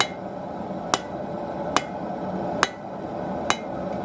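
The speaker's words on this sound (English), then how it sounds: "we're going to take it, and we're going to hammer it like this." Four sharp metallic hammer strikes on the tip of a hot steel blade, evenly spaced under a second apart, ringing over a quiet background.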